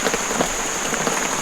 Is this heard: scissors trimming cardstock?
no